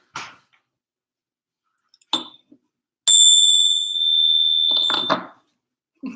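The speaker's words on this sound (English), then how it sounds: "You ding the bell." A bell is dinged once indoors, giving a bright, clear ring that sustains loudly for about two seconds before cutting off, with a few faint knocks and rustles around it.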